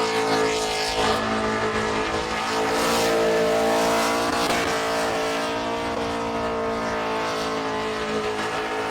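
Open-class burnout car in a competition pit, engine held at a loud sustained rev with continuous tire squeal and roar filling the whole stretch, no talk over it.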